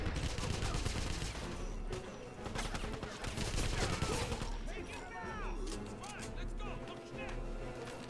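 Turret gunfire in Wolfenstein (2009) rattles in dense, loud continuous bursts with booming impacts and whistling effects, a voice talking over the shooting.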